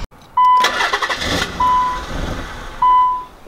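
A car engine cranks and fires up again after earlier trouble, a loud close burst of starter noise and revving, with short electronic chime beeps sounding three times around it.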